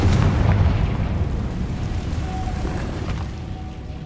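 Confringo explosion spell cast in the Hogwarts Legacy video game, a loud low boom at the start that rumbles and slowly fades through the rest of the moment.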